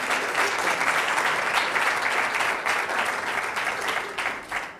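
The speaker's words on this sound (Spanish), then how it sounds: "Aplausos." Audience applause welcoming participants at an event in Santiago, Chile: dense, sustained clapping from a large crowd, loud and even throughout with no talk over it.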